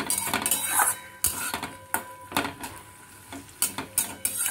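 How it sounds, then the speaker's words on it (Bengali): Onions and tomato being stirred in a pan for potato bharta, with a sharp spoon scraping and clanking against the pan in irregular strokes over a soft sizzle, close and clear with no talk. "টমেটোটাও দিয়ে ভালো করে নাড়াতে হবে।"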